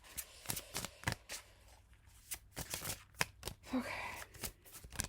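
Tarot cards from a new Prism Tarot deck are shuffled and drawn in quick, crisp riffles and soft slaps, close and quiet, coming in irregular bursts.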